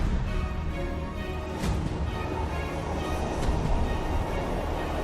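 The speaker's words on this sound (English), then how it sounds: "I'm on the train, yeah." Interior of a moving luxury train, a steady low rumble of wheels and carriage with faint rhythmic clicks and a couple of brief sharper knocks, no talking.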